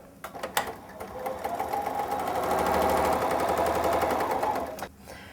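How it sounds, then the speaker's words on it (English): A Bernina sewing machine stitching binding onto a quilt, a few handling clicks and then a loud, steady rapid run of stitching close by that stops abruptly near the end. "And start stitching again."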